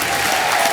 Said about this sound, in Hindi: सनी देओल जी, वेले की टीम के लिए जोरदार तालियां